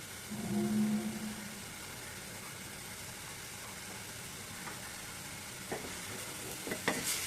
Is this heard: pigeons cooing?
no